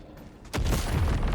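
Sentry turrets fire at enemies in a video game battle, a dense, sustained burst of rapid gunfire that starts abruptly and keeps pounding loud and close throughout.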